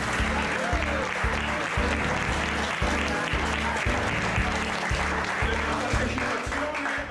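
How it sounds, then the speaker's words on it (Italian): Audience applause after a youth event in Italy, dense steady clapping from a large crowd, continuous and loud throughout with a strong rhythmic music beat underneath. "facciamo gli applausi"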